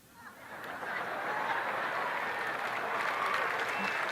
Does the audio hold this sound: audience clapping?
yes